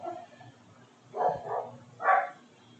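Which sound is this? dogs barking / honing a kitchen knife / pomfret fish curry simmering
dogs barking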